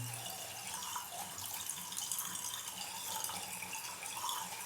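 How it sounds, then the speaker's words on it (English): A shaving brush being wetted under a running tap, giving a steady, soft splashing hiss of water that continues without pause and with no voices. "Just wetting the brush under the water."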